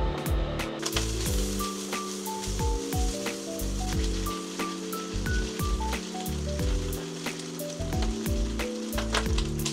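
Pork belly sizzling in a pan as its fat renders: dense, steady crackling and spattering throughout, loud and close, with music playing underneath.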